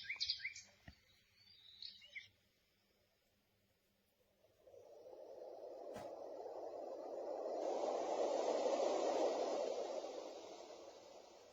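A Dreamegg Pocket Sleep portable white noise machine plays a short burst of chirping birdsong, then switches to a swelling, steady rushing noise that grows louder and fills the rest.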